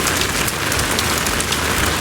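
Steady rain pours onto a Maldives beach near a restaurant, a dense, even hiss of drops hitting surfaces with no pauses or voices.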